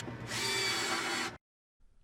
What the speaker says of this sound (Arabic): نعمل ثقوب في قاعدة المنشار عشان نركبه منها في الخشبة